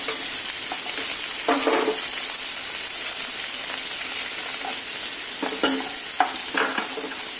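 Chopped onion and tomato sizzle steadily in a pan as a spoon stirs through them, with a few louder scraping strokes standing out over the continuous frying hiss; no voices.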